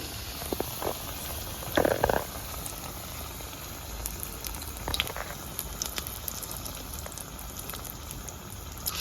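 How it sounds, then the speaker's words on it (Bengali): Paneer and papad vegetarian omelettes fry in a pan with a steady low sizzle and bubbling, a few brief louder crackles standing out, no voices present. "এবারে আমলেটগুলো যেগুলো আমি তৈরি করেছি ভেজে নেবো"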